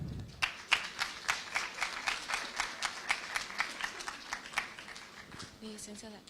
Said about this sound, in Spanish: Recibimos con un fuerte aplauso a la licenciada